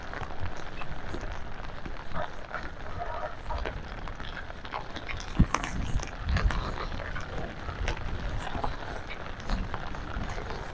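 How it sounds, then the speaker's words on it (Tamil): Steady heavy rain in Jaffna patters and hisses throughout, with a few louder knocks and thumps and a voice speaking intermittently underneath, while riding a bicycle. "மழையும் பெய்து கொண்டு தான் இருக்குது"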